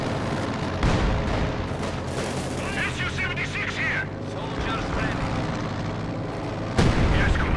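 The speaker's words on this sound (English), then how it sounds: "SU-76 is bombarding." SU-76 self-propelled gun bombarding in the video game Company of Heroes 2, dull booming shell blasts at about 1 and 6.8 seconds over continuous battle noise, with a voice talking throughout.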